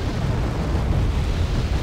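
Supply vehicles blow up in Wargame: Airland Battle, a deep, continuous explosive rumble rolling on steadily with no break, loud and dense throughout.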